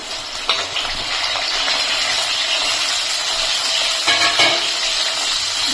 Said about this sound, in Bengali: তারপরে আমি দিয়ে দিচ্ছি ডাঁটাগুলো।